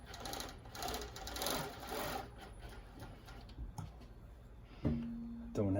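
Jack W4 industrial cover stitch machine sewing doubled Lycra swimsuit fabric, a close buzzing run of rapid stitching for about two seconds that fades into quiet clicks, then a low motor hum starts near the end.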